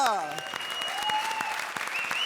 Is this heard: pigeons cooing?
no